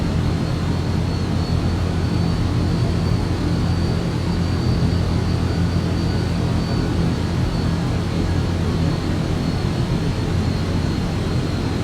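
Cirrus Vision Jet on final approach with gear down and full flaps in Microsoft Flight Simulator 2024 career mode, a steady loud engine drone and airflow rumble holding unchanged throughout with a faint high whine above.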